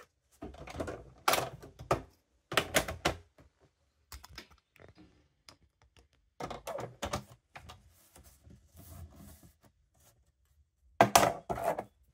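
Paper for a Christmas scrapbook mini album being folded and its crease pressed down, giving several short bursts of rubbing and scraping separated by quiet pauses, close up with no talking.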